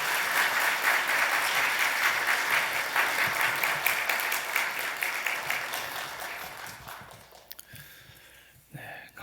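A church congregation at a Sunday evening service in Gangkyeong greets the pastor with warm, full applause that holds for several seconds, then gradually fades to a few scattered claps.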